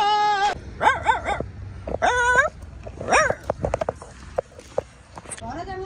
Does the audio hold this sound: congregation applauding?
no